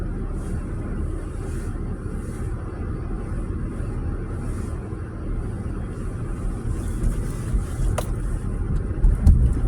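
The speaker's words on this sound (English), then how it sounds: "I'm going to get the car backed out." Car engine idling and rumbling low while backing out of a driveway, a steady dull drone with faint wind-like noise that grows slightly louder toward the end.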